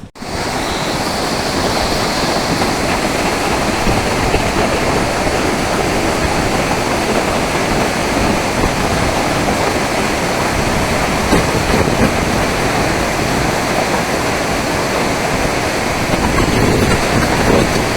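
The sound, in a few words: water discharge rushing from Darna dam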